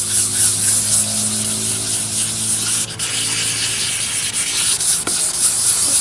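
Faded, fogged headlight lens being wet-sanded by hand to clear 600-grit scratches, a close, loud, continuous rubbing and scrubbing with brief dips in its steady rhythm and no talking.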